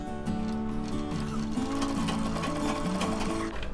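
Sewing machine stitching along folded rough practice cloth, a fast steady mechanical whirr with rhythmic needle clatter running continuously at close range.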